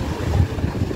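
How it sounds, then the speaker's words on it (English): Strong wind of 30 to 40 knots roars steadily across the microphone, a dense low buffeting rumble with no pauses and no voices. "this is windy today. Windy up to 30 or 40 knots."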